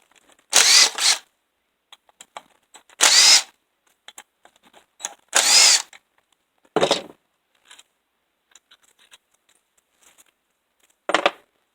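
A power driver whirs in three separate bursts as the four bolts holding a small engine's cylinder are removed, loud and close, with lighter clicks and clatter between and two later brief whirs.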